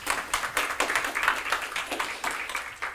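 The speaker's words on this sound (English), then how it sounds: "can we give a round of applause to all the speakers" Brisk applause from an event audience for the speakers, many hands clapping in a dense, even patter that holds steady for a few seconds.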